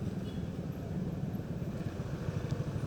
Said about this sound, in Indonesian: Nah, ini kita masuk ke daerah macet nih. Kita masuk ke daerah macet.